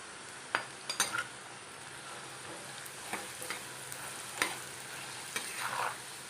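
Papaya frying in oil with turmeric sizzles steadily while a utensil stirs and scrapes the pan, giving several distinct clinks over the constant hiss.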